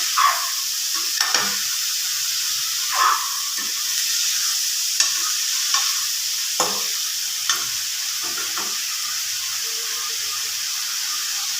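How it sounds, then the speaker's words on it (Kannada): Leafy greens stirred through hot oil in a pan for a Kannada-style soppu palya, with a constant close sizzle broken by repeated scraping strokes of the spoon, about a dozen over the stretch, and no talk. "ಎಣ್ಣೆಯಲ್ಲಿ ಮಿಕ್ಸ್ ಆಗೋ ಥರ ಒಂದು ಒಂದು ನಿಮಿಷ ಇದರ ಕಲಿಸ್ಬಿಡ್ಬೇಕು ಸೊಪ್ಪು ಚೆನ್ನಾಗಿ"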